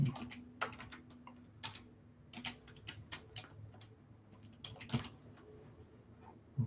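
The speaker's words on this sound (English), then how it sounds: "let me just type it here" Keys clatter on a computer keyboard during a university biology lecture, irregular bursts of quick clicks close by with short pauses between them.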